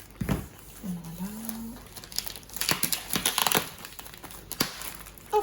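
Parcel from a handicraft painting supply shop being opened by hand, with crinkling and crushing of plastic packaging in close, irregular bursts; a voice briefly hums or murmurs partway through.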